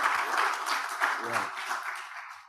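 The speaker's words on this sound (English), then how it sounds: "Round of applause for that." A room of people gives a round of applause for a colleague's new company, steady mid-distance clapping that holds for a couple of seconds, then fades.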